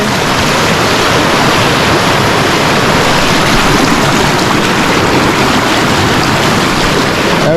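Loud, dense rushing of river water along a hidden river in Portland, Jamaica, a constant broadband roar close by with no pauses and no voices.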